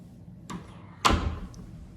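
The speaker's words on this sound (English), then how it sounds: "these 8-foot doors are solid as well, so they're really heavy" A heavy, solid 8-foot door in a mid-century modern house moves with a soft initial bump, then a louder thud as it closes, heard close up with no talking.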